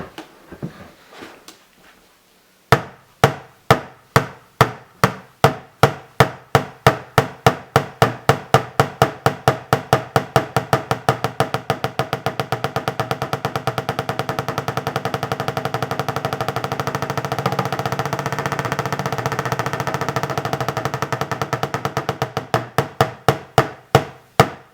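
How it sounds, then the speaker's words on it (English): One-handed roll strokes on a plastic bucket drum. A few loose taps start it, then sharp, even hits speed up into a fast, continuous close roll that carries on to the end before easing back into separate strokes. "the speed of the one-handed roll, the sound of the strokes occur twice as fast as your hand speed"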